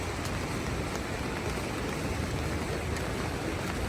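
Steady rain pours down during a walk at Rosa Khutor in Sochi, a dense, continuous hiss of drops hitting surfaces, close and loud with no voices.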